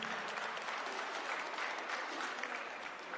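An audience at a college quiz competition applauds the participants, a continuous even wash of many clapping hands, fairly faint and distant, holding steady throughout.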